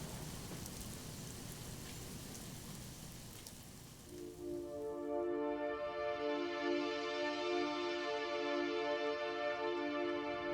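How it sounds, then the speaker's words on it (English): Steady rain hisses down at the VIR race track, a dense, even wash of droplets; about halfway through, sustained tonal music-like notes rise over the downpour and continue to the end. "If it's raining like this, it's a nice day for ducks"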